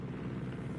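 A helicopter approaching in the video game Ghost Recon Wildlands, a low, steady rotor drone, faint and brief.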